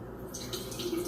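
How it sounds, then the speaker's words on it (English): Juice trickles from an opened can into a container in a faint, brief, splashy pour. "Let me pour some of this juice off."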